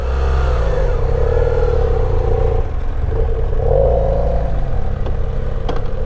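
Motorcycle ridden solo through the Bardenas desert, a loud, close engine rumble rising and falling in pitch as the throttle opens twice, with clattering mechanical texture underneath.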